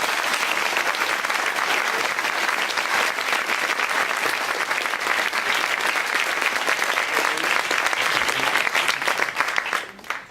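Sustained audience applause fills a hall at a student competition final on women's safety at Sciences Po, dense and steady for about ten seconds before tapering off abruptly at the end.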